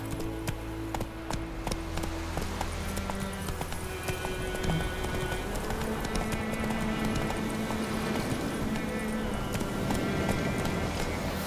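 In The Witcher 3: Wild Hunt, a horse gallops at a steady pace, its hooves clip-clopping in a quick, even rhythm under a soft, constant background of game ambience.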